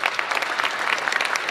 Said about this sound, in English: In Geneva, the UN's Human Rights Council applauded Libya's diplomats as they defected to the opposition.